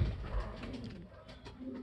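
Pigeons coo in soft, low, repeated calls at close range. The birds have just been brought in and have not yet been given water. No one speaks.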